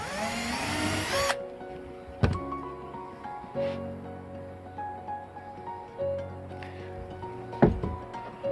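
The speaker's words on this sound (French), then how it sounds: "c'est en fait une visseuse, et j'ai une toute petite mèche ici. Je vais venir faire un trou ici tout près de la bride." A small cordless drill/driver with a tiny bit boring a hole near a bracket on a tomato stake, a brief close whine of the motor followed by quieter handling thunks and faint intermittent buzzing.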